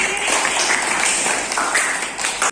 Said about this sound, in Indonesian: Beri tepuk tangan untuk Nadine